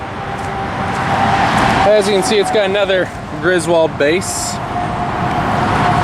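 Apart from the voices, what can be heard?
interstate highway traffic noise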